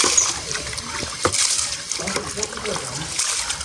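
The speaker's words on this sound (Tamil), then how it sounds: "அஞ்சு கிலோ அரிசி நான் கழுவுறேன்" Water splashes and sloshes in irregular bursts as five kilos of rice are washed by hand, close and fairly loud, with people talking over it.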